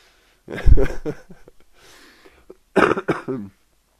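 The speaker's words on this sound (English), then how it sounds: "excuse me, coughing at you" A person coughs indoors: a loud, rough cough burst, a short pause with faint breathy sounds, then a second, harsher throat-clearing cough, close to the microphone.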